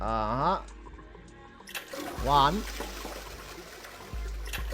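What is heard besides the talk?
toilet flushing in video game Zero Escape 999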